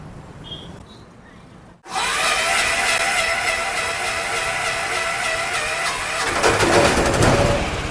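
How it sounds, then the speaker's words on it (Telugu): An auto rickshaw engine starts up after a quiet moment, then runs in a steady, loud, rattling idle close by, roughening further near the end; the engine is smoking after a homemade cylinder bore job. "స్టార్ట్ చేస్తున్నాం మనవాడి బండి స్టార్ట్ చేయి"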